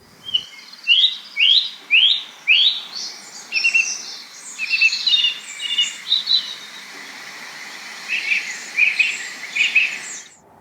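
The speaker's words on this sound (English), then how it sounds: "The song thrush was singing out very heartily that morning" A song thrush sings heartily outdoors in the morning, a clear, fairly close series of repeated whistled phrases, each motif given several times in quick succession, with no voices.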